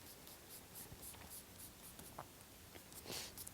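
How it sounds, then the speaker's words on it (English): Pencil shading on paper for a steampunk pattern drawing, soft continuous scratchy strokes with light rhythmic scraping, close and quiet with no talk. "And I am going to shade it with pencil."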